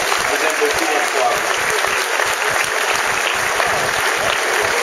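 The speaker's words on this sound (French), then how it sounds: "une bonne année d'applaudissements, M. et Mme Pelletier" Festival crowd applause after a speech at the Festival de St-Paulin, sustained steady clapping from many hands, with voices faintly mixed in beneath.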